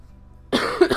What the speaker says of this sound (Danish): Jeg undskylder virkelig min hosten.